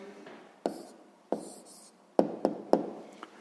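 A pen writes out the answer to a sixth-grade maths exercise, giving a series of short scratchy strokes and taps close by, spaced irregularly in a quiet room.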